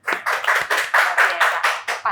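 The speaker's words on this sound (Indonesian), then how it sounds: "Tepuk tangan saudara-saudara." Podcast studio audience claps in a steady run of about nine quick, close bursts, loud and alone with no talk over it.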